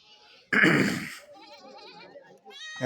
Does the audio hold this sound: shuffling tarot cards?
no